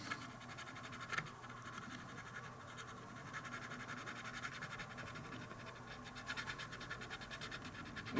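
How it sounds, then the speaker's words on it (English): A Tamiya cotton bud rubbed over a model decal number to burnish it down, giving a soft, steady scratchy rustle close up, with a few brief louder scrapes and no voices. "I've finished burnishing the number down with this little Tamiya cotton bud Q-tip"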